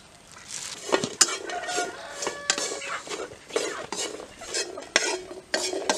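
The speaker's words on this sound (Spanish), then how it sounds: "Ahora vamos a freír medio cuarto de pasas." Raisins frying in a pan for traditional mole enchiladas, with a soft steady sizzle under repeated scraping and metallic clinks from a utensil stirring against the pan.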